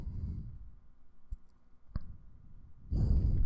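Two sharp computer mouse clicks sound close and distinct, separated by a short gap, against a faint background with soft breathy noise at the start and end.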